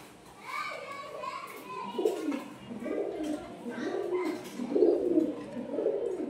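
Pigeons coo repeatedly in low, throaty pulses as a male courts a female kept in a cage, with children's voices and chatter running over the cooing throughout.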